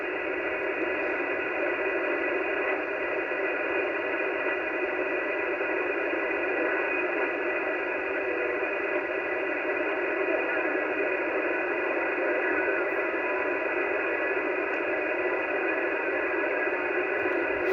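A freeband CB radio hisses with continuous, loud static and reception noise, a steady broadband rush that holds without a break from start to finish.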